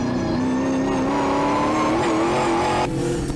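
TA2 muscle race cars racing at Morgan Park, a loud, sustained engine roar with a rising pitch under acceleration, heard close and continuous with no talk.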